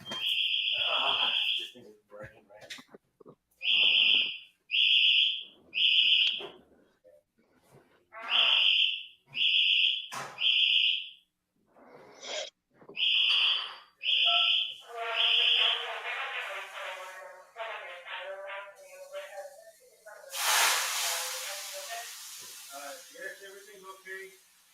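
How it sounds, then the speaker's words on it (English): A phone alarm goes off in a series of repeated bright electronic beep bursts, loud and close, with a person talking in between and a noisy rising tone toward the end. "Hold on, Robbie, my alarm just went off."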